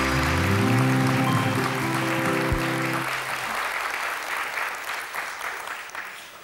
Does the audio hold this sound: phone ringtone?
no